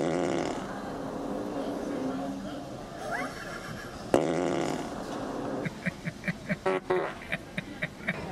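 A Tesla car plays a novelty fart sound effect: a drawn-out blast followed by a quick series of short, evenly spaced toots, loud and near, over a noisy background.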